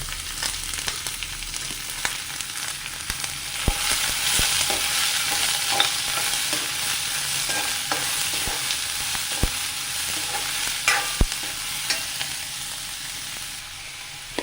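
Three medium chopped onions fry in a pan for a coconut-milk egg curry, giving a loud, continuous sizzle with scattered sharp taps and scrapes as the spoon stirs them.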